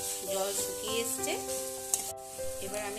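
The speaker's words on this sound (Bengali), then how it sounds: "আবারও ভালোভাবে নাড়াচাড়া করে নিচ্ছি" A sesame paste mixture with a little sugar being stirred in a frying pan over heat, continuous sizzling with soft scraping of the spoon and occasional clinks, up close.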